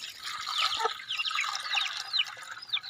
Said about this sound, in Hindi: इसमें पानी डाल दो